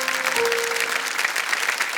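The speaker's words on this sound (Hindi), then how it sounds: "एक बार फिर जोरदार तालियां बज जाएंगी।" A studio audience on the quiz show Kaun Banega Crorepati breaks into loud, sustained applause, a dense burst of clapping that holds steady throughout.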